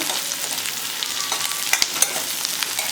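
Onions frying in oil in a pan, a steady close sizzle with a few sharp clicks of stirring or utensil contact partway through, heard on its own without speech.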